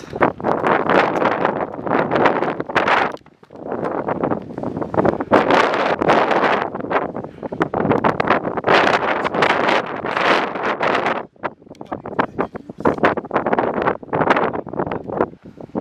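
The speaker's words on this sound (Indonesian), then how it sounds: "masih angin sangat." Strong mountain wind buffets the microphone on a climb of Mount Bawakaraeng in South Sulawesi, a loud, continuous roaring rumble with gusty surges and brief lulls, no voices.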